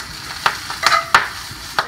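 Broccoli greens being sautéed in a hot pan, giving a light sizzle broken by several sharp scraping stirs and clacks of a utensil against the pan, fairly close and with no talking.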